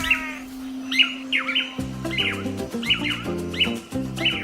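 Tangará manakins in the Atlantic Forest give short, repeated chirping calls about every half second, bright and fairly close, over a soft musical background.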